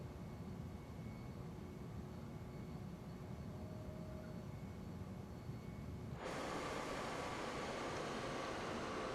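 An airplane on a landing approach in Microsoft Flight Simulator gives a steady, low engine drone and wind hiss that jumps abruptly to a louder, brighter roar partway through, with no talking.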